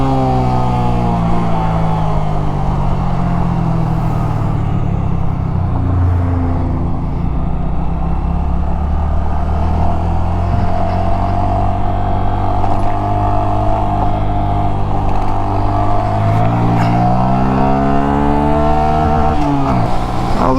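A Honda Grom motorcycle engine drones steadily on Highway 41 east of Atascadero, holding a sustained note with gradual pitch rises and falls as the rider shifts and accelerates, loud and close with no talking.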